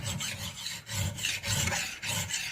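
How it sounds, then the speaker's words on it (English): A metal file sliding back and forth along an axe edge, about four rhythmic rasping strokes at close range, loud and gritty with brief pauses between passes, no talking. "you can really use a file if you slide it backwards and forwards like this"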